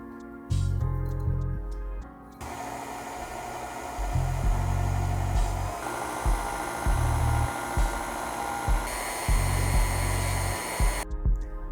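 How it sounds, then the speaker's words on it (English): A KitchenAid stand mixer with a dough hook kneads seitan dough, giving a loud, steady motor whir with a rhythmic thumping of the dough over several seconds and no talking. "we're going to combine all of our dry ingredients into a KitchenAid with a dough hook attachment"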